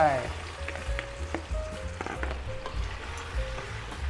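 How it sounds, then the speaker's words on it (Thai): Pork fries in hot oil in a pot, giving a steady close sizzle and crackle, broken by a few sharp clinks and scrapes of stirring. "ผัดให้มันมีความสุกหน่อยนะ"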